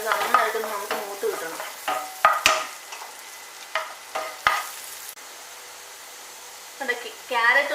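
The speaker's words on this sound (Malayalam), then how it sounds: "ക്യാരറ്റ് ഇതിലേക്ക് ഇട്ട് കൊടുക്കാം അത് നന്നായിട്ടൊന്ന് മൂത്ത് കിട്ടട്ടെ" Carrots frying with garlic in a pan, a soft sizzle with scraping stir strokes, broken by pauses and a few louder clatters, with a quiet voice at times.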